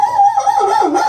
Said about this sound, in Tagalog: Tumatahol yung ibon.